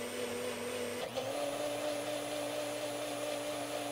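A polishing machine on its Mega setting hums steadily while polishing the die-cast metal of a 1962 Matchbox E-Type Jaguar, a constant whirring drone with a brief dip in pitch near the start.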